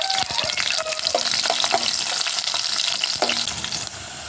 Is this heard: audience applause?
no